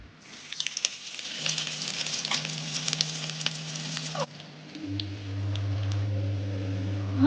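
Mutton pieces lightly frying in hot oil for kuzhambu, a steady crackling sizzle with scattered pops, then a louder continuous bubbling hiss takes over partway through.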